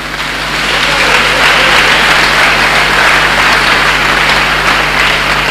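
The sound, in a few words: congregation applauding to acclaim the Lord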